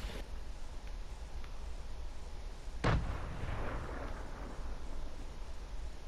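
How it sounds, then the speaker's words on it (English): A grenade launcher fires in Fortnite: a single sharp, loud blast partway through with a short rumbling tail, standing out over a steady background of game ambience. "I think that was a new grenade launcher"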